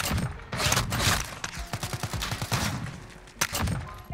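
Rapid bursts of submachine gun fire from a CX-9 with a three-round burst conversion kit in Modern Warfare, sharp loud cracks clustered in quick trios and repeated several times with short gaps between.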